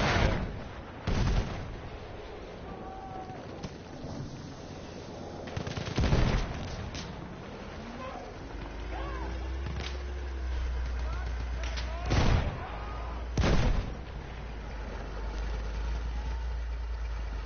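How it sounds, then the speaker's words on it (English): A tank in the Frontlines video game rumbles closer with a low engine drone, while several heavy booming shots and blasts land spaced across the scene amid distant gunfire. "Yeah, the tank is coming."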